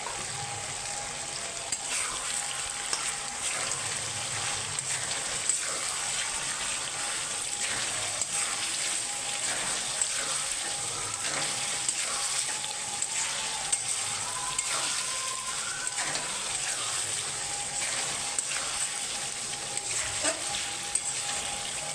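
Chicken cooked with green chili, ginger, onion and garlic paste sizzles steadily in its own released oil, a continuous close crackle with faint intermittent stirring clicks throughout.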